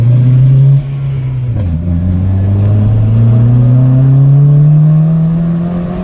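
Turbocharged VW MK3 with an ABA engine pulling hard under acceleration, a loud close-up engine drone that dips at a gear change and then climbs steadily in pitch.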